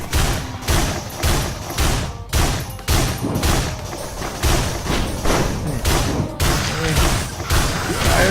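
Heavy booming explosions from fires and missiles in the video game Risk of Rain, a steady barrage of loud thuds and blasts roughly every half second, dense and close with little pause between hits.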